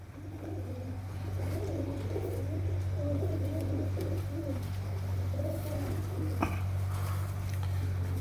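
Teddy breed pigeons coo steadily in a breeder's loft, soft rolling calls repeating over a constant low hum, with one brief sharp tap partway through.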